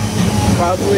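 A freight train rides between Dallas and Tulsa with a loud, steady low rumble and rattle heard from on board, while someone speaks briefly.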